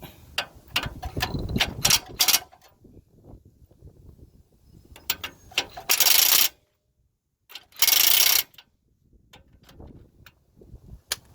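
Hand ratchet tightening a castle nut to line up the cotter pin hole on a 2003–2009 Toyota 4Runner during rack and pinion replacement; close, quick bursts of clicking with pauses and a couple of louder metallic rattles.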